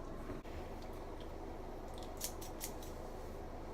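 Scissors cut a friend's hair at home, giving a few quick, close metallic snips over a steady low background hiss, with no talking.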